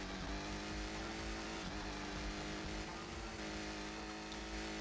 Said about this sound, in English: And this car is making still sounds.